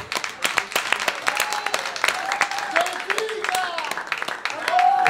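Audience applause at a beauty pageant show in Emilia Romagna, steady dense clapping from a crowd with a few whoops, while music or a voice sings faintly underneath.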